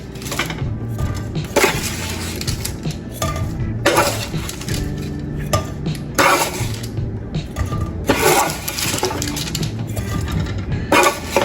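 Meatballs and sauce going into a pan on the stove, with repeated metallic clinks and scrapes of utensils against the pan over steady sizzling background noise.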